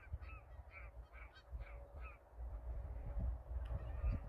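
Geese feeding in a field in Sweden give a run of distinct honks, several calls spaced in a loose rhythm at middle distance, over low rumbling background noise.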